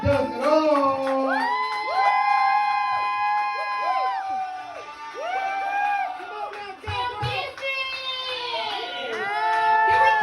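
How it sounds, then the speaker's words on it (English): A comedy club crowd at an Oakland open mic contest whoops, shouts and cheers loudly and continuously, with rising and falling yells layered over a steady crowd roar. "Y'all make some noise, start clapping right now."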